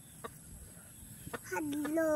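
A frightened chicken gives a few sharp squawks, then a rising run of distressed cackling, fairly faint and outdoors, with a voice in the background.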